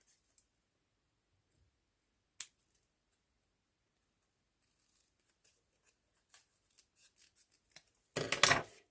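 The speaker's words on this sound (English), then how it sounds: "I'm just going to quickly fussy cut a butterfly to pop on the side of the card." Scissors fussy-cut a paper butterfly for a card, with sparse crisp snips scattered through near silence and then a quick, louder burst of rapid cutting near the end, close up.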